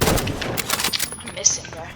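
Gunfire in the video game Rivals, a quick burst of sharp, loud shots in the first second with scattered reports afterward, close and punchy.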